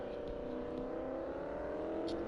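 Steady engine drone from a race car in a racing video game, revving continuously and close-up, with a faint tick or two near the end and no talking.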